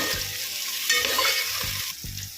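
Garlic sautés in oil in a pan, a steady sizzle with occasional soft stirring scrapes as the pan is worked.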